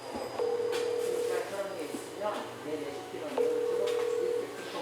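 Steady tone pulses from a phone call ringing out unanswered, two long ring bursts separated by a pause, heard over background room noise and faint voices.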